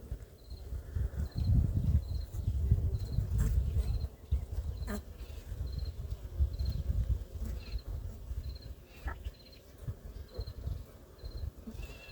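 A honey bee queen piping inside a hive while being accepted by the colony, with short high tones repeating in a steady series over a low buzzing hum of bees, faint and close.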